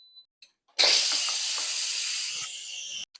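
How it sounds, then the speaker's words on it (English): Steam hisses loudly as it is released from a pot of freshly boiled eggs, a sustained broadband rush lasting over two seconds before cutting off abruptly. "Now, once the steam is released"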